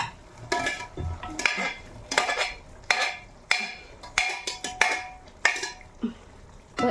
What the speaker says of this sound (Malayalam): ഇനി നമുക്ക് ഈ ഇറച്ചിയും കൂടി ഇതിലേക്ക് ഇടാം